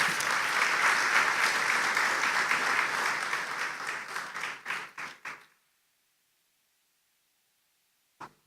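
Audience applause at a renewable energy company launch event, dense clapping that thins into a few scattered claps and stops abruptly, followed by silence and one last faint clap.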